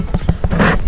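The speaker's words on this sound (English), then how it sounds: "Is Nat still on her horses?" Horse hooves clip-clop on ground during a riding outing, four quick rhythmic thuds in under a second, close and fairly loud with a brief rustle at the end.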